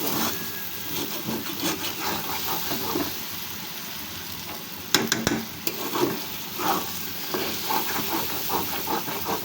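Meat skin fries in a hot pan with a continuous crackling sizzle and hiss, punctuated by a few sharper pops and stirring scrapes midway.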